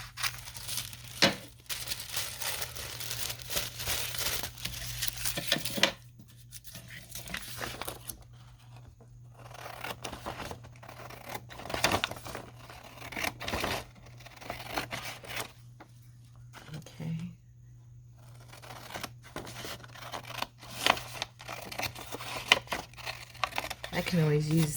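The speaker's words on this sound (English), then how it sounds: "I'm just gonna cut a thinner strip like the other piece and go right up that center" Scissors cut a thin strip from a vintage book page, giving soft, close snips and paper crinkles scattered through the clip, with a person talking over them.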